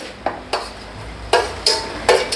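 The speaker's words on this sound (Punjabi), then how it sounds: "ਇਹ ਹੁਣ ਅਸੀਂ ਸ਼ਿਮਲਾ ਮਿਰਚ ਜਿਹੜੀ ਆ ਉਹ ਵੀ ਪਾ ਲਾਂਗੇ" Capsicum goes into frying pav bhaji vegetables of carrot and beans, heard as five sharp, close spatula strokes against the pan over a faint low sizzle.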